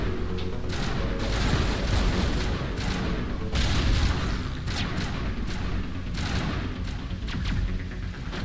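Dense, continuous enemy gunfire in Mass Effect, with rapid overlapping shots and booms filling the whole stretch, loud and close with no pauses.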